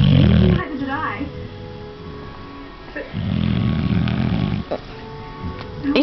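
A person snores in two long, loud rasping bursts, one at the start and a longer one midway, with quieter breathing noise between them and a voice audible nearby.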